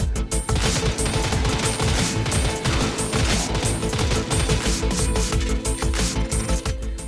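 Stradavar gun from Warframe firing in rapid full-auto bursts, a dense continuous stream of sharp shots over a loud, steady game backdrop with no pauses.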